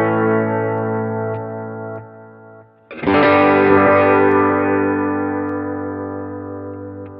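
Electric guitar run through a Line 6 Helix Poly Pitch effect: a sustained chord rings and fades, then a fresh strummed chord hits loudly and sustains with a slightly shimmering, processed tone.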